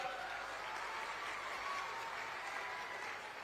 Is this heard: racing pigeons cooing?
no